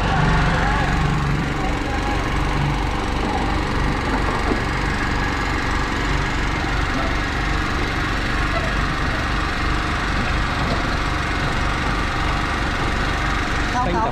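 Steady, loud drone of a generator engine running throughout at a Vietnamese grave exhumation and reburial site, a rough mid-pitched rumble that never lets up, with faint voices underneath.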